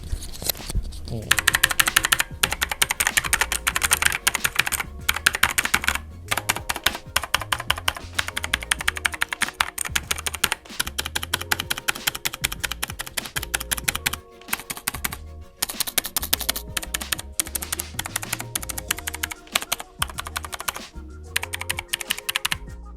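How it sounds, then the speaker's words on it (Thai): Rapid, clicky typing on an EGA Lite K102 tenkeyless mechanical keyboard with blue switches, close and steady, with sharp bright keystrokes in bursts and brief pauses, a voice occasionally in the background. "เดี๋ยวเรามาลองฟังเสียงคีย์บอร์ดดูนะครับ ว่าเสียงมันเป็นยังไงนะฮะตัวนี้เป็น Mechanical Blue Switch นะครับ"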